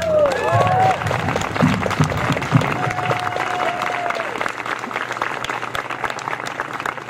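Audience applause at a scholarship banquet, a steady wash of clapping from a crowded room with some cheering and voices mixed in, holding fairly constant throughout.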